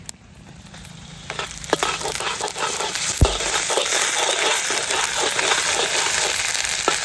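Ginger paste fries with already browned onions in a village kitchen pan, producing a steady close sizzle that swells after a sharp knock of the paste dropping in, with stirring scrapes throughout.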